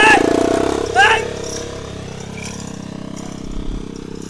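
A motorcycle engine runs with a raspy rumble beneath a lively Spanish conversation, holding fairly steady with a brief rev near the start before settling into a constant drone as people keep talking.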